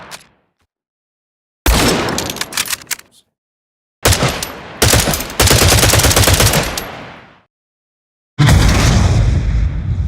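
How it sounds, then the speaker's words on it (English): Loud, booming video game shotgun bursts erupt in three separate volleys, each a sharp blast with a crackling, rumbling tail, separated by silence. "shotgun was created, involving all 3 random containers of separate frequency fire shots"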